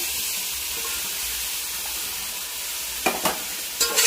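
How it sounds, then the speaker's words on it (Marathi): Washed mutton frying in hot oil with onion and turmeric, a loud even hiss of sizzling, then a few bright metallic clanks of stirring near the end, no talking. "आपण हे घे धुवून ठेवलेलं मटण तेलामध्ये टाकूया"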